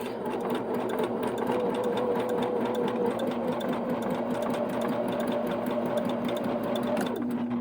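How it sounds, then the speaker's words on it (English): A sewing machine zigzag stitching runs continuously up close, its rapid rhythmic needle clatter steady for several seconds before the motor winds down. "I'm just going to take my zigzag stitch on my sewing machine."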